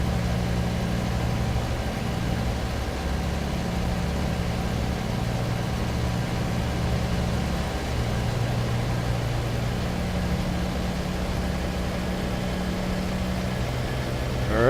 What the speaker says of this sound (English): We are heading uphill, and my poor little engine is struggling every step of the way